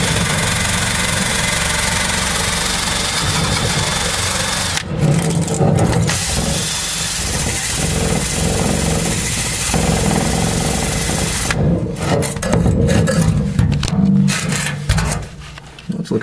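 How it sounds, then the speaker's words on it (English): A wire wheel brush grinds gunk and rust off the nuts and bolts of a 1959 Ford F100 front fender. It makes a loud, continuous harsh whirring scrape that breaks off briefly a few times, then turns choppier and more uneven near the end. "Dust mask and a wire wheel brush, and we'll go ahead and start removing some of that gunk off of the nuts and bolts."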